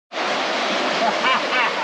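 The Monzón river near Tingo María, Peru, rushes steadily as a broad, constant roar of flowing water, close and loud, with no voices over it.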